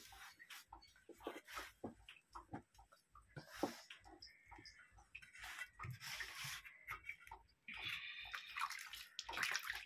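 Water is added bit by bit to flour while dough is kneaded by hand in a bowl. Irregular wet splashing and squelching sounds come close by, with no talking.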